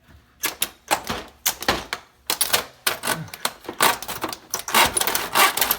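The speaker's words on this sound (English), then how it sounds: "it is PCB, so you should be able to cut through it no problem" A blade sawing through the PCB of an oversized video card, a series of rapid, gritty rasping strokes in irregular bursts, close and fairly loud with brief pauses between cuts.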